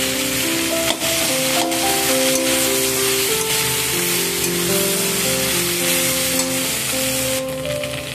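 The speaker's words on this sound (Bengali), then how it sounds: "এখানে মাছের মাথাগুলো আমি ভাজা করতে দিয়েছি" Fish heads fry in hot oil in a pan, giving a loud, continuous close-up sizzle with bubbling crackle that holds steady throughout, with no talking.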